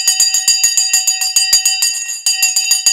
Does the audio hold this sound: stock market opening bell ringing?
yes